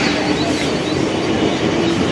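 Steady rumbling and clattering inside a moving train carriage, a continuous loud wash of wheel and track noise with no voices.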